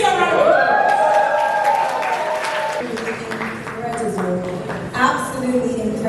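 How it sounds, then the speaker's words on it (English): Applause from an audience at a women's business empowerment event in Dubai, a continuous wash of clapping heard beneath a prominent voice and tonal sounds in the foreground. "Give me some round of applause."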